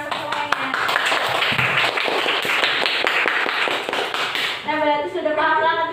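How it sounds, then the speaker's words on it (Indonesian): Classroom students clapping together in a lesson, a rapid patter of claps running for several seconds before giving way to a speaking voice at the end. "Tepuk tangan untuk semuanya."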